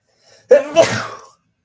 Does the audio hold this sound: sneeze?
yes